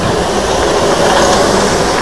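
Darjeeling toy train passing close by, a loud, steady rumble and roar of the narrow-gauge rail cars, continuous for the whole moment without talk.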